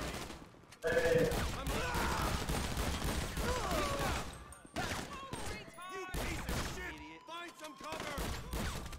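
Gunfire in GTA Online crackles in rapid bursts and volleys, loud and close, with players talking between and over the shots.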